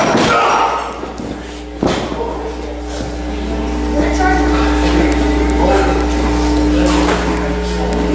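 A wrestler is knocked over in a wrestling ring, landing on the mat with two heavy thuds, one at the start and another a couple of seconds later, while a trainer talks over the room's constant low hum.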